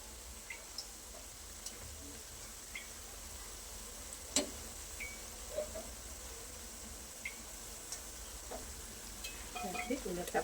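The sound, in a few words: spinach potato bhajiya fritters frying in oil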